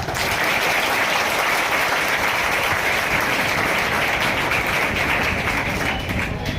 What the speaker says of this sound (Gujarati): તે પહેલાં આપણે એમના માર્ગદર્શનને વધારવા માટે તાળીઓથી એમને વધાવી દઈએ